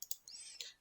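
Two quick mouse clicks near the start, faint and close, followed by a soft high swishing tone as an After Effects text animation is set up.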